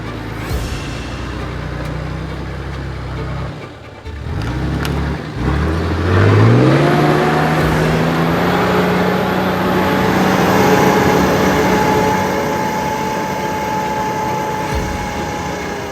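An off-road vehicle revs hard while climbing a steep wall on a dry dirt track. The engine drops out briefly, then roars back with pitch sweeping upward into a loud, sustained strained drone.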